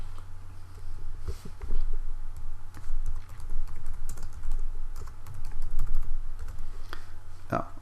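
Steady clicking of computer keyboard typing, close and continuous, with a low hum underneath and no voices.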